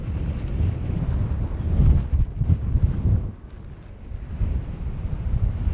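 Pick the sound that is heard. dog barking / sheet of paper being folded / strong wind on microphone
strong wind on microphone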